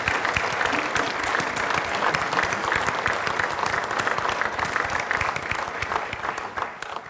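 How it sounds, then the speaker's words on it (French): Theatre audience at a Walloon cabaret revue applauding steadily, a dense sustained wash of clapping that holds strong throughout and tapers slightly near the end. "On peut les applaudir parce que sans eux"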